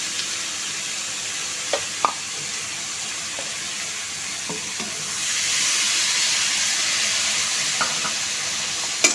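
A little water goes into a hot pan holding fish heads and Malabar spinach for a Bengali dish. Steady sizzling and frying continue throughout with a few light scrapes, and the hiss swells louder partway through.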